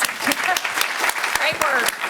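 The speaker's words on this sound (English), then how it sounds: "let's give them a round of applause" An audience claps at a Homeland Security student presentation summit, with sharp scattered claps over a continuous ripple of applause and a voice speaking over it.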